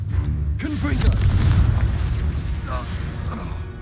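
Confringo fire spell explosion in the video game Hogwarts Legacy: a loud, deep boom that swells and rumbles for a few seconds, with game voices over it.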